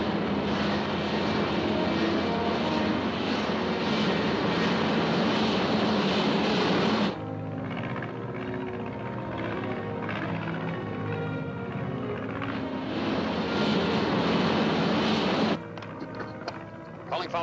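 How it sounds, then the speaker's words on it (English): Vertical-takeoff plane from a 1950 film taxiing and taking off, a loud continuous engine roar that drops back in the middle and then swells again, with a few faint voices near the end. "The takeoff is also similar to conventional planes. We will taxi off for a while and then..."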